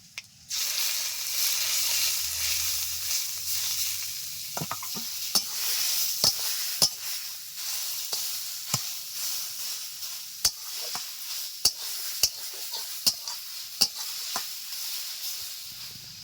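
Raw mango pieces sizzle steadily in hot oil with dried chilli and five-spice seeds, a loud continuous frying hiss broken by repeated sharp clinks of a stirring spoon against the pan.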